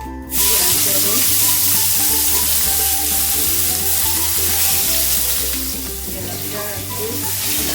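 Panch phoron spices hit hot oil with a sudden loud sizzle that settles into steady crackling frying, close and continuous, with no voices.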